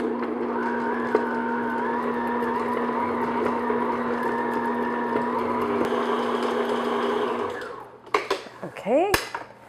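An electric mixer beats room-temperature butter at medium speed, a steady close whirring drone with faint clinks. The motor then winds down, followed by a few sharp knocks and scraping clatters against the bowl.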